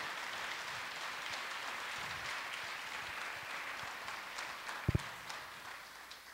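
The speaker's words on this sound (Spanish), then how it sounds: "denle un fuerte aplauso" Steady, quiet applause from a church congregation during a sermon, a continuous wash of clapping held at one even level throughout, with a couple of sharp knocks near the end.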